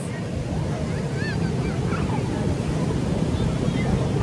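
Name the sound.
sea waves on the shore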